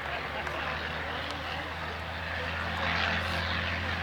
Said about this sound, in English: The planes that are taking off right now.